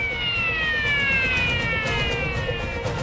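A fire engine on an emergency run toward an LNG port dock wails with a continuous siren, fairly near, over a steady bed of traffic and road noise.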